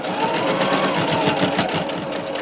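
A sewing machine runs steadily while stitching a fabric face mask, a fast even whirring rattle of the needle, loud and close with no pause.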